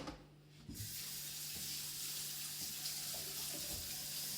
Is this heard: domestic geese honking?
no